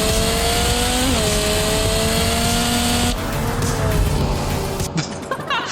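A car in BeamNG.drive slides sideways in a drift, its tires squealing in long wavering tones over a steady engine drone, the squeal breaking up and fading near the end.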